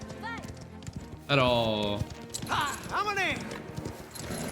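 A horse in the Mafia The Old Country video game runs with rapid hoof clip-clops and lets out a loud neigh partway through. Italian voices talk over the sound, and a whinny-like cry follows later.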